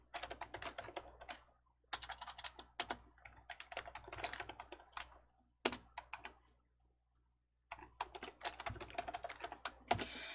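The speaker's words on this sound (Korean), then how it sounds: "엔터 치셔서 줄 한 줄 추가해 주시면 됩니다." Keys clatter on a computer keyboard during word-processor work, with bursts of fast, close typing and clicks separated by short silent gaps.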